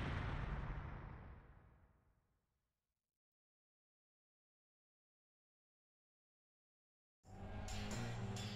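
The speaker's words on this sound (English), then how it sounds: "An explosion?" A single loud explosion from the PlayStation game Front Mission 3 bursts out and then rolls away into a long fading rumble, followed by silence before another noisy passage begins.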